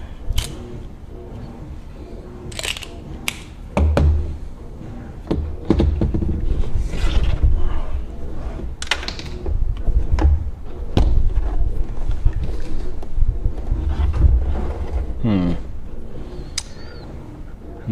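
Screws being driven into the plastic case of a Brother XL3750 sewing machine during reassembly: a steady run of close, sharp clicks and small knocks scattered throughout, with no talking.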